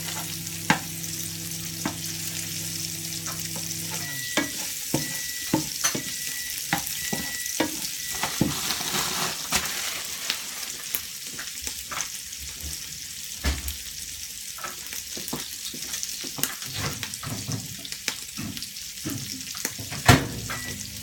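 Chorizo fries in oil in a pan with a steady sizzle that continues throughout. Scattered clicks and stirring noises come through on top, and there is no speech.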